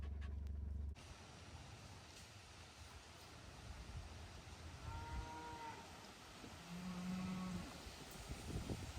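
Cattle scattered across a pasture, including cows close to calving, give a few drawn-out moos at a distance over steady wind and ambient field noise, with a brief loud bump at the start.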